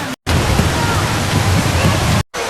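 A river flows through the Eden Project's vast indoor rainforest, a loud, steady broadband rush of water that fills the clip, briefly cut to silence near the start and again near the end.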